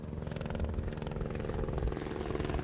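Helicopter ferrying supplies to a mountain refuge construction site in the Écrins national park, a steady, loud rotor and engine drone that holds evenly throughout with no one talking.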